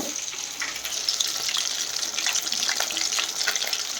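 Fish sizzles in hot oil in a village kitchen, a dense, continuous crackling fry with bursts of spitting, close and fairly loud, no voices.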